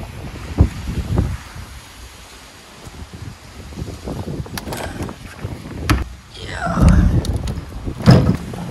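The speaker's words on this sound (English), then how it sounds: "It's a windy day today." Gusty wind buffets the microphone in low rumbling surges that rise and fall, with brief quieter lulls between the stronger blasts.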